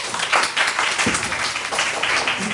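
Audience applause at a student self-introduction event, a dense, steady patter of many hands clapping together for a couple of seconds, fairly loud and close.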